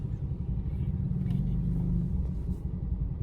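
Steady low rumble of cars passing along a street at night in Vientiane, Laos, a continuous close traffic drone with slight engine swells and no clear voices.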